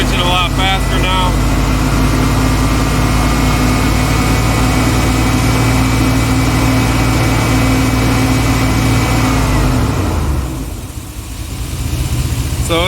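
A car engine held at raised RPM during an oxygen sensor test gives a loud, steady droning hum that sags away near the end before picking back up.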